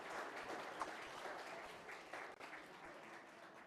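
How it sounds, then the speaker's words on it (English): Applause for a choir at a worship service rises as a dense, faint spread of clapping that holds steady for a few seconds before thinning slightly toward the end. "Could we give them a round of applause, please?"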